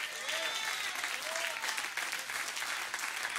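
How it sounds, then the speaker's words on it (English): Congregation applause during a church service: loud, sustained clapping from a large crowd with a few whoops rising above it, running for several seconds. "You ought to clap louder."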